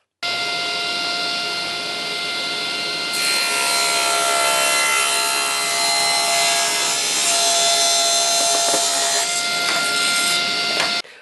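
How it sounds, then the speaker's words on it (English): A table saw cutting a sheet of plywood with attached wood in half, loud and close, its steady whine deepening into a dense rasping cut that holds for several seconds before stopping abruptly near the end. "I've preset up the table saw, and now we're just going to cut this piece of plywood with the attached wood on."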